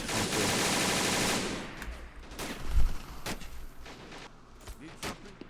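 A machine gun fires in the World War II strategy game Men of War: Assault Squad 2 with an Army Men mod: a dense burst up front, then scattered sharp shots and booms fading into quieter battle noise.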